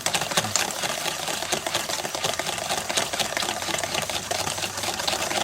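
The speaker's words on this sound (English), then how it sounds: "Just gonna keep whisking all the way around." A whisk beats eggs and heavy cream for spaghetti carbonara, a steady, rapid, close scraping and clinking that goes on without a break.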